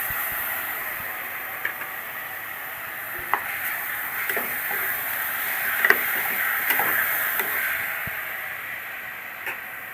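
Chopped tomatoes for mutton curry sizzle in a frying pan with a steady, moderately quiet hiss, broken by occasional light clicks and scrapes of stirring.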